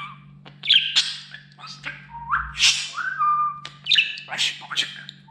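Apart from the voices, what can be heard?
budgerigar chirping and squawking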